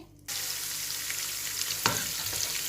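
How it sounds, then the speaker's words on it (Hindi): Oil sizzles loudly and steadily as onions hit the hot pan, with a brief clatter of stirring near the end. "इसको हम अच्छी तरह से इसमें फ्राई करेंगे।"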